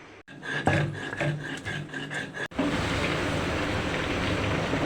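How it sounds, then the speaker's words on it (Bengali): Small shrimp, boiled with garlic and tomato, are ground by hand. Close, rhythmic scraping strokes give way to a continuous gritty rubbing. "এখানে আমি কিছু ছোট চিংড়ি নিয়েছি এখন এগুলো আমি বেটে নিই"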